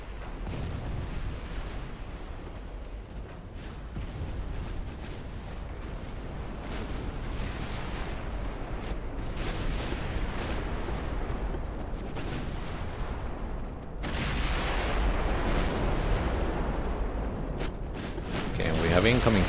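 Incoming naval artillery fire in Ultimate Admiral Dreadnoughts, a 1900 British campaign battle: a steady roar of booming shell impacts and distant gunfire, swelling louder toward the end, with narration running over it.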